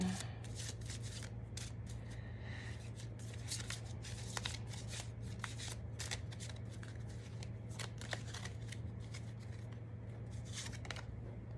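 Tarot cards are shuffled by hand in a continuous run of crisp riffling and flicking over a low steady hum, with no talking.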